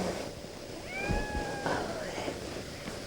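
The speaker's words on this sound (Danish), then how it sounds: "der er en lille kat" A small cat gives a short, close, high meow, then a second fainter one, out in the countryside. A steady background rush runs beneath it.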